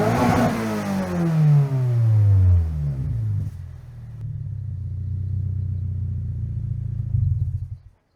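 A Toyota GR86 engine revs hard, its pitch sweeping up and falling back, then holds a loud, steady buzzing drone at the rev limiter for several seconds before cutting off abruptly.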